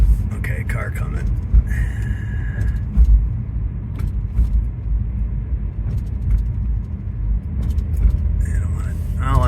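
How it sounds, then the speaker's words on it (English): A car drives past at night, a low rumbling engine and road noise that holds steady and loud through the whole stretch, with brief higher tones and clicks scattered over it. "Okay, car coming."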